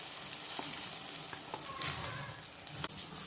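An onion tempering tipped into a pan of cooked tomatoes for a Chettinad tomato gothsu, giving a soft, fairly faint sizzle with a few scattered clinks and stirring scrapes.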